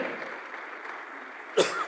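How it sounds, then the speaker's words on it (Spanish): A church congregation applauding in a dense, continuous patter of many hands, heard from a distance, with a short cough-like burst breaking through near the end. "Dele fuerte las palmas al Señor."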